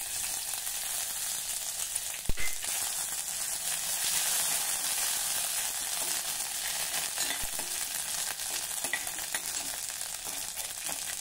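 Cumin, grated ginger and crushed green chilli crackle and sizzle in hot oil for a tempering, a loud continuous frying hiss close up with a couple of brief knocks, no talk.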